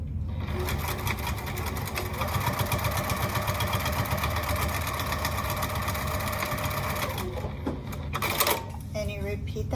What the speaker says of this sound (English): I'm going to stitch across there using the same 5/8 of an inch seam allowance